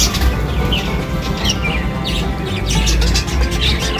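Many pet budgerigars chirp together in a dense, busy chatter of high, quick tweets. The calls are loud and close, with no pauses.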